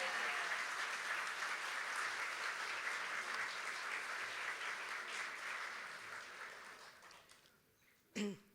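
A graduation ceremony audience applauding a speech, dense sustained clapping that gradually fades out near the end, followed by a brief close thump.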